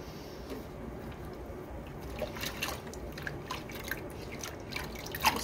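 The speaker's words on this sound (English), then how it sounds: "Just gonna rinse that soap off of him." Water trickles and drips while soap is rinsed off a dog during a bath, a soft continuous flow with scattered brighter splashes and drops, fairly quiet.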